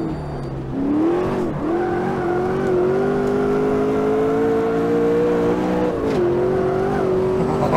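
A 580 PS race car in Automobilista 2 drifts with its engine held at high revs, a loud steady droning whine whose pitch climbs slowly and dips briefly during gear changes.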